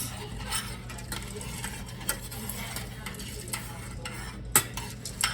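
Chocolate chips melt in a pan over low heat while a spoon stirs them, giving soft continuous scraping and sizzle with light clinks and a sharper knock near the end, close and fairly quiet.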